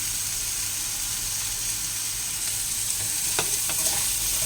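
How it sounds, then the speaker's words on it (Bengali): Potato, carrot, beans, garlic, green chilli and onion fry in a pan with a steady, loud hiss, joined toward the end by a few scraping spatula strokes as the vegetables are turned. "দিয়ে এবার এগুলোকে যথাসময় নাড়াচাড়া করি।"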